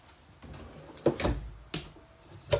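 A pots and pans drawer in a 2021 Grand Design Transcend Xplor 240ML travel trailer kitchen slides and thumps shut, a few soft knocks and one firmer bump, close and quiet.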